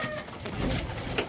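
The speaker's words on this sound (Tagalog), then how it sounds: "Check natin mga kalapatids, tingnan natin." Pigeons in a loft giving soft, low cooing calls, close by and fairly brief, mixed with faint background movement.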